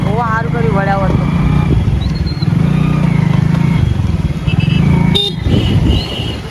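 A motorcycle engine idling and revving nearby on a busy market street, loud and continuous, with horns tooting and people talking over it.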